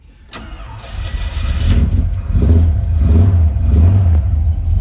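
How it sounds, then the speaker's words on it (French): A 1969 Chevrolet El Camino engine cranks, catches, and settles into a loud, throbbing idle with a few revs, close by and with no talking. "Démarrage. Donc il suffit simplement de mettre la bonne clé dedans."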